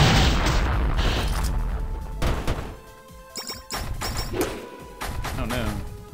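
A beam weapon fires in a fantasy battle game, with heavy booming blasts and crashing impacts that swell and break off in several loud surges, close and dense, while a voice can be heard under the noise.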